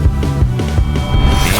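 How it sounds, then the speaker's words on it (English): Electronic music with sidechain compression: a steady, loud kick drum pulses about every 0.4 seconds, and the other instruments dip under each hit and swell back between them, giving a pumping rhythm with no voices. "whenever the kick is playing, the other instruments will just kind of fade out or just get compressed a little"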